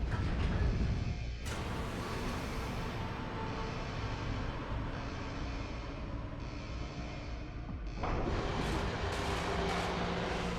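Heavy cannon fire from a mech in Armored Core VI: a loud, booming blast at the start rolls into a sustained rumbling roar, and a second blast hits near the end.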